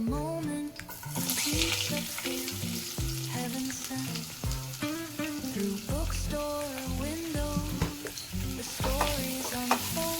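Curry leaves and onion sautéing in a hot pan with ginger, a continuous oily sizzle broken by repeated scraping and stirring strokes, close and busy throughout with no talking.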